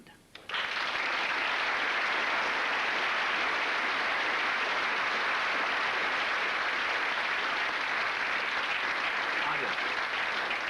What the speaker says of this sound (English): A nice round of applause for George Grimmond.